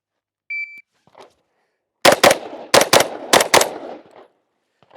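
A CETME L rifle fires a magazine of Federal rounds: six loud, sharp reports in two quick pairs plus a third pair, with a faint beep and a brief rustle beforehand and a short echo trailing off.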